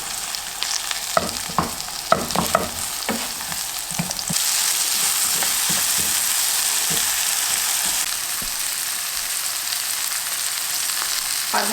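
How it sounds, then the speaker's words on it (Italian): Olive oil sizzles in a hot pan with salt and black pepper as food browns, a steady hiss that swells louder partway through, with occasional clicks of stirring or handling, no talking. "Un filo generoso d'olio in padella, sale, pepe nero, e le dobbiamo far rosolare bene bene."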